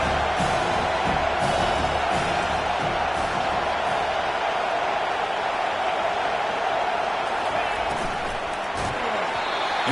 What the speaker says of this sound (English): The crowd coming to life here, trying to help this defense down in the red zone.